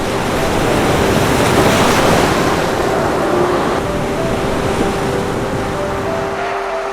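Ocean waves break on the sandy, wind-whipped shore of Zhongjiao Bay in Taiwan. The surf is a continuous wash of rushing water, with wind noise and a faint steady hum underneath.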